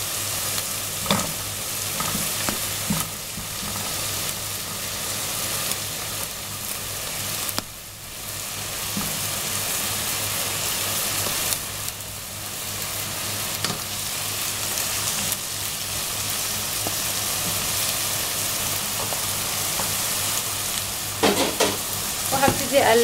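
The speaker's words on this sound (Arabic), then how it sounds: "وهبتدي اقلب برضو، خليها تتشوح معاها قبل ما احط التوابل." Meat stir-frying in a pan, with steady, loud close sizzling throughout and occasional scraping and clatter from stirring; no one speaks.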